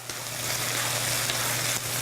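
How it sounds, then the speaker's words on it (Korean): Tofu stir-frying in a pan over very high heat for kkanpung tofu, a loud continuous sizzle and crackle with no break, close and alone. "아주 센 불에다가 이렇게 볶아주시고"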